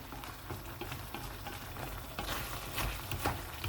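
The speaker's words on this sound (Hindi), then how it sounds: "क्रीम डालने के बाद इसको अच्छी तरह मिक्स करें।" Cream being stirred into a white chicken handi curry in a pot, a steady soft scraping and wet swishing with a faint sizzle underneath, close and continuous, a little louder toward the end.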